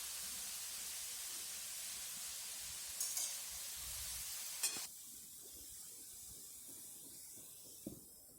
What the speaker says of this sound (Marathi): आता हा किस टाकला. चांगलं सगळीकडनं एकसारखं परतून घ्यायचं व्यवस्थित नाही का.